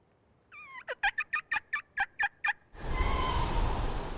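A wild turkey gobbler gobbles in the woods during a hunt, preceded by a short call, then a rapid burst of about nine loud, rhythmic gobbling notes, followed by rustling, shuffling noise up close.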